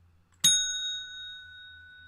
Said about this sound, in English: Selena, ring that bell.